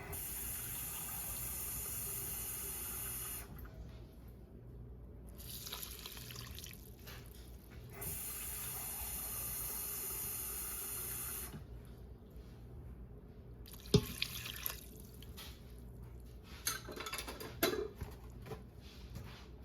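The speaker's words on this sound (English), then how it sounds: "so let's get a little bit more water" Tap water runs into a measuring cup in a home kitchen, a soft hissing stream that starts and stops several times with faint splashes and small knocks between runs.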